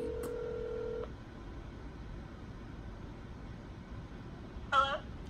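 Phone ringing on an outgoing call: a steady electronic ring tone for about a second, then quiet line hiss, followed by a short burst of tones near the end, faint and thin.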